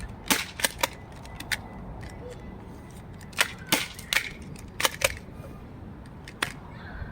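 Foam darts fired rapidly from a Nerf blaster outdoors, heard as sharp, separate pops, some in quick pairs or triplets, with uneven gaps between shots over quiet background ambience.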